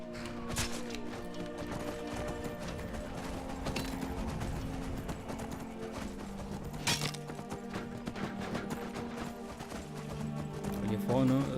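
Horse hooves thud in a steady gallop while riding in Skyrim, moderately loud beneath game music and someone speaking over the ride.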